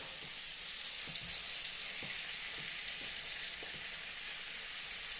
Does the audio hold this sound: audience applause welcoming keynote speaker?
no